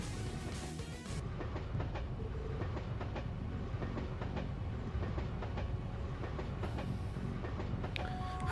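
Train rolling steadily on rails in the Trails to Azure video game, a continuous loud rumble with rhythmic clickety-clack from the wagons, running unbroken throughout without voices.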